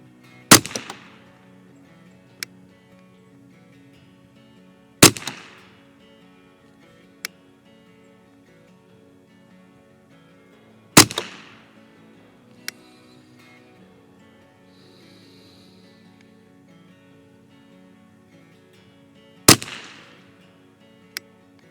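Four loud rifle reports with CCI standard ammunition fired at 25 yards ring out several seconds apart, each followed by a brief decay, with a few faint clicks of handling between shots.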